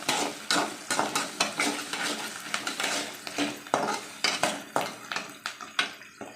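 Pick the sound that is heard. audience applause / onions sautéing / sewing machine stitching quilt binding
onions sautéing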